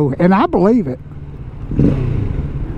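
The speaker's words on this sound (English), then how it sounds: "Man, that exhaust sounds pretty good" A 2024 Kawasaki Z650 motorcycle exhaust runs with a steady, close engine drone that starts right after a brief spoken remark and continues to the end.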